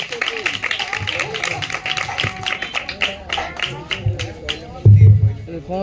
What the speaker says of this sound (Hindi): समस्त जोर ताली मारिबा